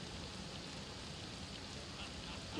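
Steady, faint rain hiss from the video game Persona 5 Royal, an even broadband wash without distinct drops or thunder, playing alone.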